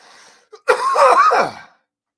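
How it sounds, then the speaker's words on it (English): A single harsh, raspy cough burst up close, preceded by a faint small throat sound, then silence. "I went straight into a coughing fit as soon as I hit live."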